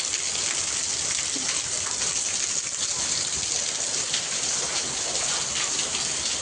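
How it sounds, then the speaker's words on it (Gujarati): Heavy monsoon rain near a temple in Kadi, Gujarat, a dense, even roar of drops pounding surfaces, steady and close throughout with no voices. "જોરદાર વરસાદ ચાલુ થઈ ગયો"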